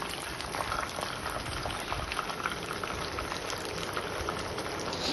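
Fish frying in hot oil for an Alleppey-style meal gives off a continuous, dense sizzle and bubbling that stays steady and close throughout, with no talking.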